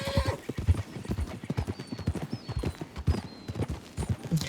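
Horse hooves clip-clop in a steady quick gait in Red Dead Redemption 2, with a short whinny near the start; the sound is close and fairly quiet, with no talking over it.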